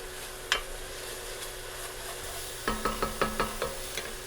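Minced garlic heats and is stirred in a pan with oil: a steady low sizzle, then a run of soft, evenly spaced utensil scrapes and taps close by, with no voices.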